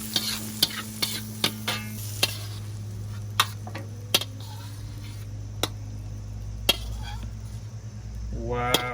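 Drunken noodles with basil and shrimp tossed in a hot pan, steady sizzle broken by sharp, irregular clicks and scrapes of the utensil, close up, with a short voiced sound near the end.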